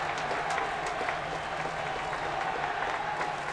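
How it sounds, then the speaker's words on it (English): Club guests applauding at an arcanist arts feast in the Reverse 1999 game, a dense, even wash of clapping from a crowd that holds steady throughout without any voices. "The invitees burst into applause."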